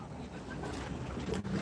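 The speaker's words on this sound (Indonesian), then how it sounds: "KM Simanindo mau menyeberang dari Tiga Ras ke Simanindo." The motor ferry KM Simanindo departs Tigaras port on Lake Toba, heard as a low, steady engine drone mixed with wind and water noise, fairly quiet and brief.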